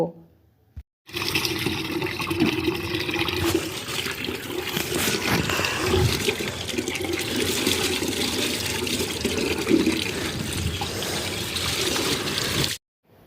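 Clothes are washed by hand with water, a continuous loud splashing and running-water wash lasting about twelve seconds after a brief click, then stopping abruptly.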